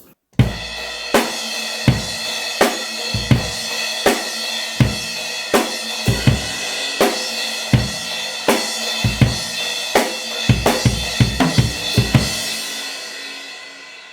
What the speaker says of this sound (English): bring the kick and the snare way up